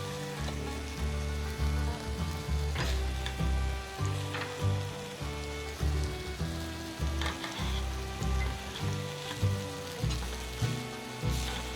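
Carne asada sizzling on a flat griddle, a loud continuous fry with rhythmic scraping and pulsing from a spatula moving the meat, no voices.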